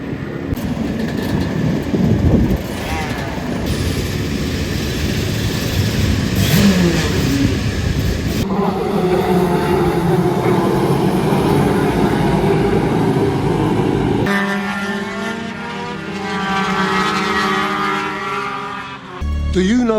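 Supercar-class race bikes at a Bemsee club race at Donington Park National circuit, engines howling and revving as machines pass one after another, loud and continuous with shifting pitch and some voices mixed in.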